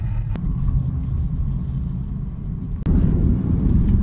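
A car drives along a road on the way to Lebu' Kulit, Sungai Asap, Belaga, heard from inside as a steady, loud rumble of engine and tyres with a brief bump partway through.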